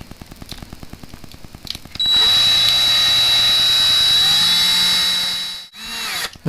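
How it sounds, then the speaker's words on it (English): A power drill drills out rivets on a 1955 Chevy, starting with short stuttering bursts and then settling into a loud, steady high-pitched whine for several seconds before stopping briefly and spinning up again. "drill it out so I can put screws in it."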